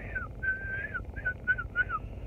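A person whistles a short, wavering tune in several breathy phrases with brief pauses between, fairly close and clear.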